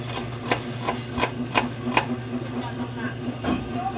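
Sharp knife taps strike a board about six times in a quick, even rhythm as garlic is chopped, then pause before one more, over a low steady hum.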